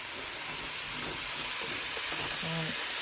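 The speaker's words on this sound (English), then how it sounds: "And I continue sauteing this." Mushrooms and onions sauté in olive oil with a constant close sizzling hiss, while faint low murmurs or clatter surface briefly toward the end.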